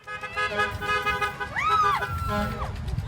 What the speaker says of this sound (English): a parade of honking horns and silly string